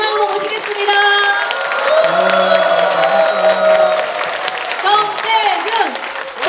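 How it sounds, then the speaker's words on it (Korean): A crowd at a Democratic Party lecture event in Jungnang applauds and cheers as former prime minister Chung Sye-kyun enters. Dense clapping runs throughout, mixed with loud shouts and voices rising over it. "정세균 전 국무총리님을 모실 때 큰 박수와 함성으로 해주시기 바랍니다."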